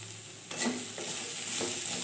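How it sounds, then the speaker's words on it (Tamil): Spiced food frying in a home kitchen pan, a steady close sizzle with a few soft stirring scrapes, three brief louder strokes roughly half a second apart. "இதை நீங்கள் வந்து அப்படியே ஃப்ரை பண்ணி நல்லா ஃப்ரை ஆகிற வரும் ஃப்ரை பண்ணிவிட்டு எடுத்துக்கலாம்"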